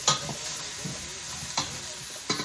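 Salt being stirred into food in a pan for roasted salmon with cauliflower purée, with a steady frying sizzle and a few sharp scraping clicks of the utensil at intervals, close and fairly loud, no talking.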